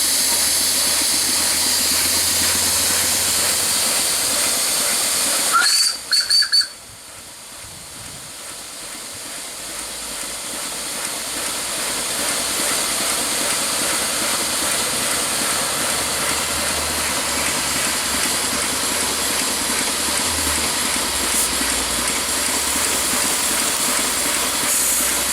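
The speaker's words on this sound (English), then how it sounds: "with the cylinder drains open, in forward gear, just open the regulator slightly" A GWR 45xx steam locomotive standing with cylinder drains open gives a steady, loud broadband hiss that runs almost the whole clip, broken by a brief clunk and momentary drop near the middle before the hiss swells back.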